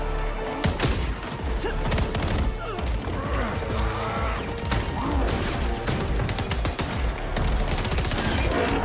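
Rapid, overlapping gunfire from a new SMG in Black Ops 7 Zombies, Ashes of the Damned. Dense bursts and fusillades run continuously and loudly through the clip amid crashing impacts.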